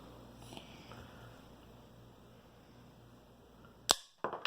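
A toy gun fires once near the end, a sharp close pop followed by a quick rattling impact as the projectile bounces back, after a stretch of quiet room tone.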